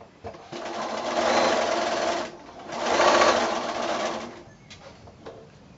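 A sewing machine stitches quilt squares together in two steady bursts of whirring, each lasting about a second and a half with a short pause between, close and loud with no talking.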